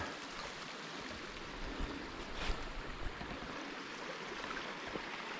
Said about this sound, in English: there's the creek that makes the little waterfall down there next to the river